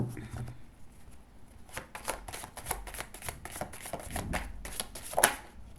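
Tarot deck shuffled by hand: a rapid run of crisp papery riffles and taps, close and fairly quiet, with a sharper snap near the end and no talking.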